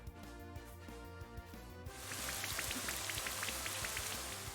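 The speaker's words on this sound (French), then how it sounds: "Il pleut." Rain falling in a Pokémon video game, a steady broadband hiss with scattered drop ticks that rises after the first two seconds over looping game music.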